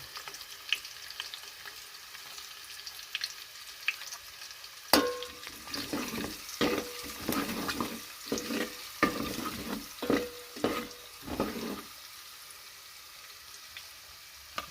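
Onions fry with turmeric in a pan for a Telangana-style fish curry, a soft steady sizzle punctuated by a run of sharper stirring scrapes and clatters before the sizzle settles again.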